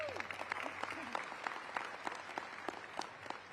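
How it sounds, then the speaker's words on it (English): An audience at a Washington DC announcement applauds, a steady patter of many hands clapping at moderate distance, with a voice briefly audible at the start. "Let's give that a round of applause."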